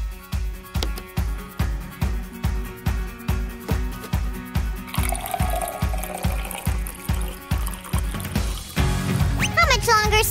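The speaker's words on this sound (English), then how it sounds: "Sue, just pour me something" Liquid pours from a homemade cardboard minion drink machine. The splashing is faint beneath a loud, steady rhythmic beat, then grows fuller and louder toward the end.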